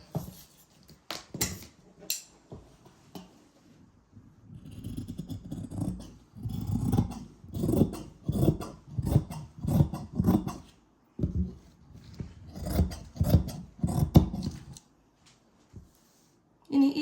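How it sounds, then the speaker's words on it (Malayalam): Scissors snip through fabric being cut for a garment sleeve, a series of short crisp cuts in bursts with pauses, close by and fairly quiet, with rustling cloth between cuts. "നമ്മൾ ആദ്യം കട്ട് ചെയ്തിട്ട് എടുത്തിട്ട് കാണിക്കാം"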